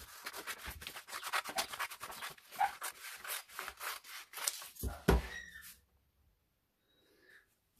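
Scissors cutting out a fabric circle for a sewn capeline hat: a run of close, crisp snipping and rubbing strokes for several seconds, then stopping into near silence.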